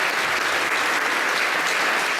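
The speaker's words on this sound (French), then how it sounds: "Merci Jeff, on l'applaudit s'il vous plaît." Audience applause fills an amateur rugby awards ceremony, the Oscars du rugby amateur, as a dense, steady wash of many hands clapping at full strength without letting up, with no talk over it.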